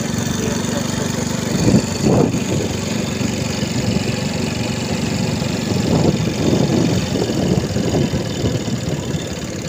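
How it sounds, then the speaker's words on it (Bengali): A motorcycle engine runs steadily while being ridden through a village lane past houses and trees, a continuous mid-pitched drone with slight surges, close and fairly loud. "আমি যেটা চালাচ্ছি এটা আমার এক ভাইয়ের মোটর"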